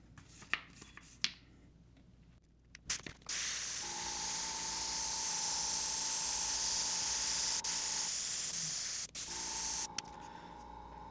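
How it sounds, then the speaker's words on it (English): An airbrush sprays black paint onto a zombie-themed painting through HD stencils, a steady close hiss running for about six seconds, cutting out briefly, then resuming after a few soft clicks and taps. "I'm gonna spray all those darker areas"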